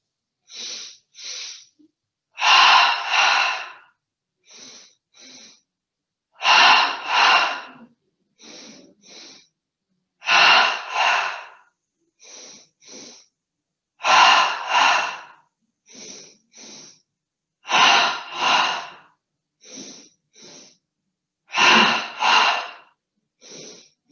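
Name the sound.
double breaths in through nose, out through mouth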